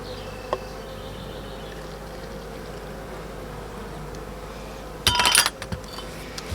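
Honeybees buzz in a steady, close drone while a half-cup sample is gathered for a varroa mite alcohol wash, then a brief burst of loud rattling and clinking breaks in near the end.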